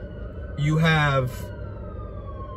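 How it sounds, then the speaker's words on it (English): Fire truck and ambulance sirens wail briefly in the distance, rising then fading as two fire trucks and an ambulance pass, with a voice speaking over it. "That's a fire truck, two fire trucks, and an ambulance went by."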